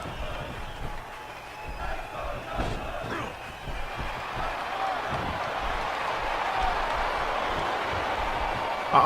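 Arena crowd noise from the WWE 12 wrestling video game, a steady roar of many voices with a rhythmic chanting swell, continuous and fairly loud throughout with a few sharp thuds.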